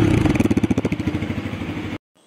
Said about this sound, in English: ab aapko iska exhaust note sunate hain jo ki bahut hi roaring hai